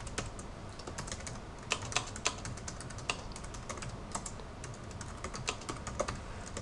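Typing on a computer keyboard, a quick irregular run of soft key clicks heard up close and fairly faint, with no voices.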